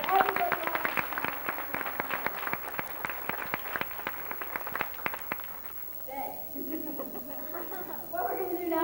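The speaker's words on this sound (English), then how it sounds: "let's have a big round of applause for everybody" A studio audience at a 1990 Nickelodeon kids' live audition at Universal Studios Florida claps in a burst of dense applause that thins out, then gives way to crowd chatter and murmuring voices.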